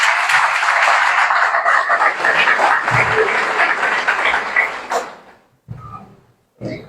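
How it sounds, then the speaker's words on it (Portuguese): A church congregation at a Sunday celebration service claps loudly and steadily for five seconds, then the applause stops abruptly, leaving a couple of brief knocks and shuffles. "Aplauda o Senhor bem forte."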